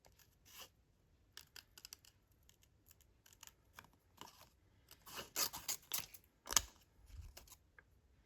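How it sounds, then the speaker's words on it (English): Scissors cutting out a paper template traced around a coin, a series of quiet, close snips and rustles in irregular bursts, with the paper crinkling faintly between cuts. "Now I'm going to take my scissors and cut it out."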